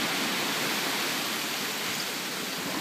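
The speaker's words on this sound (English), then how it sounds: "the waves rush in and fill the hole with a thunderous boom" Ocean waves rush into the Thunder Hole rock inlet as a dense, continuous roar of churning water, loud and close, steady throughout with no voices.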